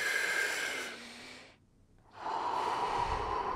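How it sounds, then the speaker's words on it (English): Deep Wim Hof method breathing: a long, strong inhale through the belly and chest, a short quiet pause, then another full breath, close and clear with no talking. "use your belly and use your chest to inhale fully"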